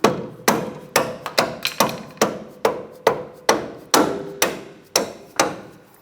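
Hammer tapping a sway bar link bolt into place on the front suspension of a 1997-2001 Honda CR-V, about a dozen sharp metallic strikes in an irregular rhythm, close and loud with no talking.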